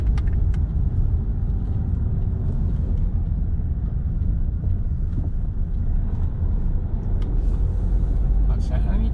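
A car creeps slowly along a narrow residential crescent on a driving test route, held on the clutch: a steady close low engine and road rumble with wind buffeting throughout.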